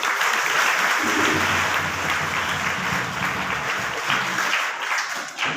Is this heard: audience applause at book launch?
yes